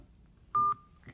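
A single short touch-tone beep sounds as a phone number is dialed, clean and close, followed by faint line noise.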